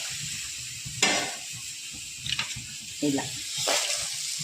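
Urad dal, peanuts and sesame seeds dry-roasting in a pan, a soft crackle with scattered scraping stir strokes and light clinks, as a voice speaks a word over it.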